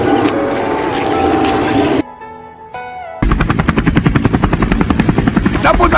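A helicopter in a war-game scene beats loudly with rapid, pulsing rotor chops, broken by a short quieter stretch of tonal sound before the rotor thumping returns strongly.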